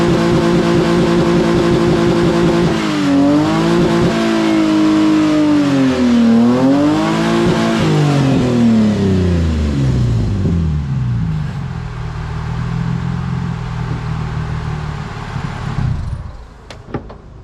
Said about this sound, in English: it wouldn't be right to not do a quick burnout test